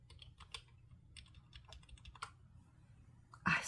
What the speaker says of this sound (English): Let's type it right.